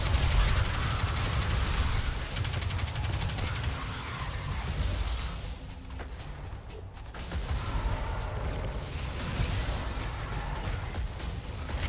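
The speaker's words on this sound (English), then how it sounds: "Just shoot, man. There's no reason not to be shooting." Gunfire in the video game Destiny, a dense, continuous barrage of shots and explosions rumbling throughout, loud and busy with a brief dip midway.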